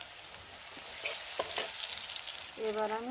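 Garlic sizzles and fries in hot oil with a constant hiss and a few stirring scrapes, and a voice briefly speaks over the cooking near the end.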